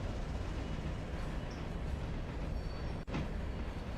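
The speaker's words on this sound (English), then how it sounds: "until today it hadn't actually occurred to me that the carriages make noise" In the Railroader simulation game, train carriages roll along the track with a steady, even rumbling hiss that briefly cuts out near the end before resuming.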